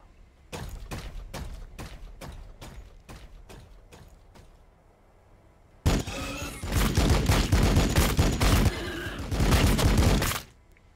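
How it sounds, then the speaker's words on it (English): An assault cannon in the Warhammer 40,000 video game fires in a rapid string of separate loud reports, then after a pause roars into a dense, continuous burst of heavy automatic fire lasting several seconds, with no talking. "assault cannon going to town there"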